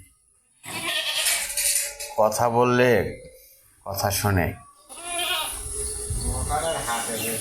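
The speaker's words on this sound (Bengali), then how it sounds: "ছাগল ভিটায় অসংখ্য ছাগল রয়েছে আপনারা দেখতে পাচ্ছেন" Many goats at a goat shed bleat loudly nearby in wavering, drawn-out calls, with a person speaking briefly among them.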